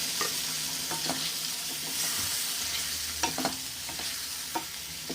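Cooked dal is poured into a hot pan for watermelon kootu, setting off a loud, continuous sizzle, with a few soft knocks of utensils and no talking.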